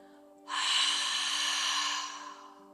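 An audible mouth exhale with a "ha" sound during a breathing practice against stress, a single breathy release lasting about a second and a half over a quiet steady hum.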